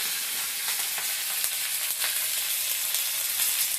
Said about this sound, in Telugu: చూడండి కరివేపాకు వేస్తున్నాను.